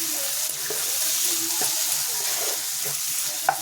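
Chili powder mixed with water is added to a hot frying pan, giving a steady sizzle with light stirring scrapes and a few soft clinks, close and moderately quiet, no speech.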